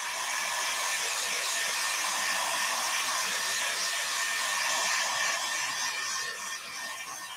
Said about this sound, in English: Let me dry it real fast first.